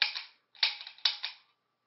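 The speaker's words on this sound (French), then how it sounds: "donc j'ai tiré une balle." A gunshot sound effect plays as three sharp, snappy reports, evenly spaced about half a second apart, each with a short bright decay and silence between.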